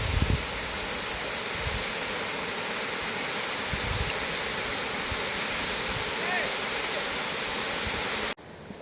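Steady roar of a waterfall in the Kodaikanal hills, heard from a distance where the long drop is hidden from view, with a brief voice and a few low thumps near the start.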